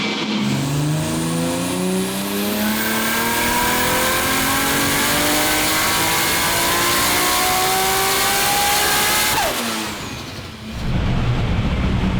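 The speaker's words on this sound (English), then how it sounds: "So Con has the car on the dyno, it's warmed up, ready to go. Let's see what she does" An 800hp Nissan GT-R with a PPG six-speed sequential gearbox runs hard on a dyno, its engine note climbing steadily through several gear changes before the revs drop off sharply near the end, loud and close.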